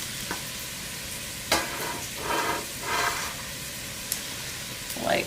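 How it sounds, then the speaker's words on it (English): Chopped onions hitting hot oil in a soup pot for a curried lentil soup, a steady close sizzle with stirring scrapes and a few louder surges of frying hiss, no talk over it. "I'm getting a good sizzle when I add those onions"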